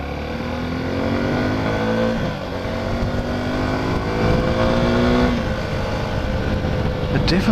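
An adventure motorcycle's engine revs through a slow U-turn, a near, throaty drone that rises and falls with throttle blips and shifting pitch, loud and continuous without talk.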